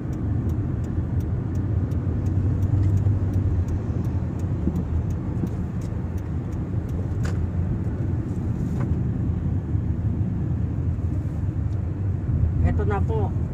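Steady car traffic rumbles close by on the approach to a Philippine public market, a continuous road-noise bed with occasional faint higher chirps near the end.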